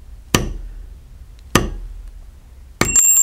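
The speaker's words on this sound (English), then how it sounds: "I'll come in here with the pear-shaped bruiser, and I just kind of lean that tool up" A metal pear-shaped bruiser tool is tapped onto carved leather in three sharp, isolated strikes about a second apart, close and clear with quiet between them and no talking.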